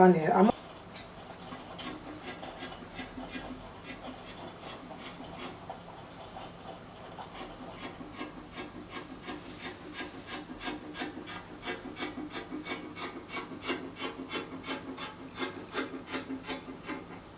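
Fabric cut out for a kaftan dress: a long run of steady, evenly spaced scissor snips and rubbing strokes, close and moderately quiet, with a brief louder bump at the very start and no voice.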